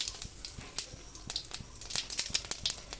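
Whole cumin seeds hit hot oil while a boal fish curry is being cooked, setting off quick, irregular crackles and sharp sputtering pops close by over a low sizzle.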